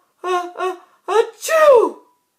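A voice imitates a big sneeze, with two short breathy catches building up before a loud drawn-out burst, close and clear.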